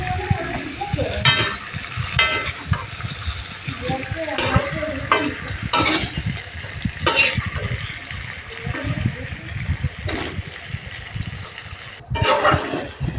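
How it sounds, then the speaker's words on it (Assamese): Soft pumpkin and potato pieces are stirred and fried in a pan, giving a continuous sizzle broken by repeated scrapes and clinks of a spoon, close and steady throughout. "এতিয়া মই অলপ টাইম এনেকৈ লৰাই ভাজি থাকিম।"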